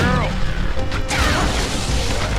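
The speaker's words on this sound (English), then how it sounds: "He smashed into the wall." In Beyond Good and Evil, an enemy slams hard into a wall with a crashing thud amid loud fight noise and whooshes, while a voice talks over it.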